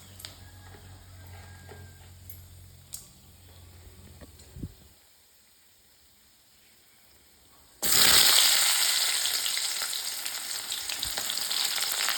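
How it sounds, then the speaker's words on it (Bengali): Onion, garlic and ginger paste hitting hot oil in a pan: after quiet kitchen sounds and a pause, a sudden loud, close sizzle erupts and keeps hissing steadily, no talking. "যে তেল গরম হয়ে গেছে, এখন পেঁয়াজ রসুন আদা বাটা দিয়ে রান্না করব।"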